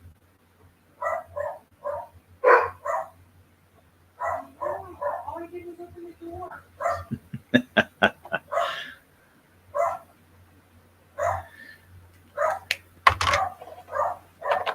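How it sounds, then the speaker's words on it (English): Several dogs bark in short, loud bursts near and far, with clusters of rapid yaps between pauses, while a person talks over them in between. "What is going on with those dogs?"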